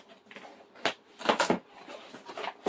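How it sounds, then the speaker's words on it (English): Opening a mail package by hand, with a few sharp tearing and crinkling bursts of cardboard and plastic wrapping, close and fairly loud with brief pauses between. "Y'all see how I open stuff up?"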